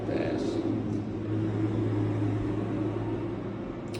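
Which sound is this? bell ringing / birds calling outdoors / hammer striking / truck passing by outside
truck passing by outside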